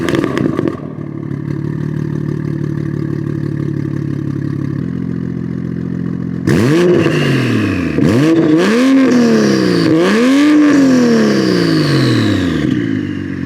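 A Toyota Supra engine idles with a low drone, then its loud exhaust with a 5-inch muffler revs up repeatedly, each rev rising and falling in quick succession.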